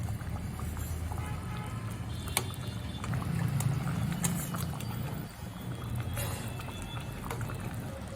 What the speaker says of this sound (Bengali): গ্রেভিটা ফুটছে